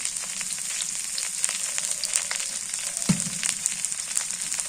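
Pointed gourd (potol) with salt frying in hot oil makes a steady, close crackling sizzle with dense bright pops throughout and one soft thud partway through.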